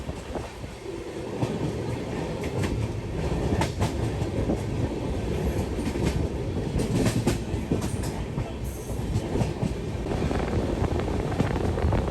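The Grand Trunk Express rumbles steadily along the rails near Amla Junction with a continuous low roar and faint rhythmic clacking, heard from inside a sleeper carriage with some wind noise.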